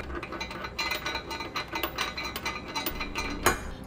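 Ratchet clicking steadily as a hex bolt is threaded into the weld nut of a Draw-Tite Max-Frame trailer hitch on a 2012 Dodge Charger, a close, busy run of metallic pawl clicks with one sharper knock near the end.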